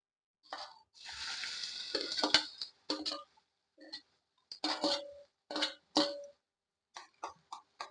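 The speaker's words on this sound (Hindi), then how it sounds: "इधर तेल भी हमारा गर्म हो गया है, इसमें मैं जीरा डाल देती हूँ।" Cumin seeds crackle and pop in hot oil in a home kitchen pan, a brief sustained sizzle followed by scattered sharp spits and ticks coming in short irregular bursts, close and fairly quiet.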